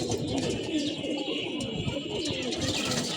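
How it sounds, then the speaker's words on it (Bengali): Female pigeons coo nearby in a loft, a continuous layered murmur of soft, throaty coos overlapping one another. "এই যে মাদি কবুতরগুলা।"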